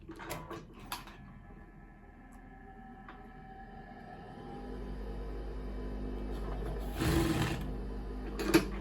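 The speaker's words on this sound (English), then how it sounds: "I leave half inches spaces before I start sewing" Sewing machine stitching a label onto cloth, a low whirring run that builds from soft clicks into a steady mechanical drone, ending with a couple of louder clunks.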